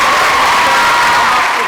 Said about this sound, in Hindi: गुलाब बानो के लिए बहुत सारी तालियां।